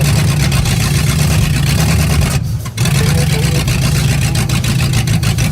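A junkyard 440 big block V8 swapped into a Suzuki Samurai idles loudly and steadily just after starting, a deep rumbling drone with one brief dip in the middle.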